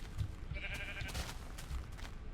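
Minecraft sheep bleat in a few short wavering calls, close and clear over faint low background thumps, with no voices.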